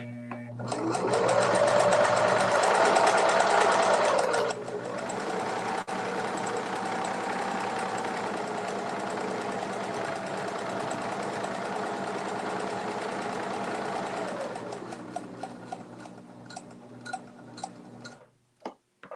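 A sewing machine runs steadily while stitching a fabric bowl cozy, starting with a brief slower hand-turned stretch, then humming fast and continuous for about ten seconds before slowing and stopping with a few clicks.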